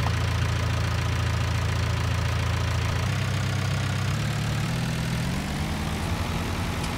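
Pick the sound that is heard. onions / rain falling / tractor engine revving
tractor engine revving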